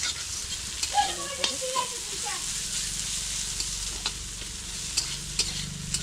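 Radish greens frying and being stirred in a pan, with a steady sizzle and repeated scraping strokes of a spatula against the pan, heard up close and alone.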